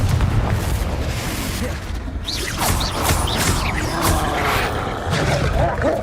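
Confringo explosion spell cast in the game Hogwarts Legacy, a loud booming blast with crackling bursts and rumbling debris across a dense, continuous stretch of combat noise.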